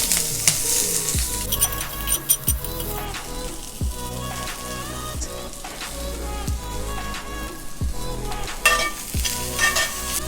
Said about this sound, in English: When the pan is nice and hot, I'll add some mustard seeds, red chillies, add some hing, curry patta, chopped onions